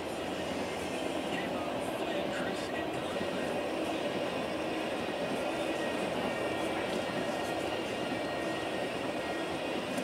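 A Norfolk Southern freight train hauling black and white tanker cars rolls past at speed, a steady rumble with clanking and a faint high squeal, heard from a moderate distance.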